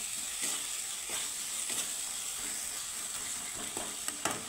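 Spice paste cooking down with gram flour in a pan for a dhaba-style okra dish: a continuous soft sizzle broken by regular scraping strokes of a spatula, with no talking.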